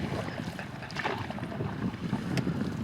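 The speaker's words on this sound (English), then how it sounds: "Paddling away" A canoe paddled along a northern river in the Arctic fringe, with a steady wash of moving water and wind buffeting the microphone, and a few soft splashes rising out of the continuous rush.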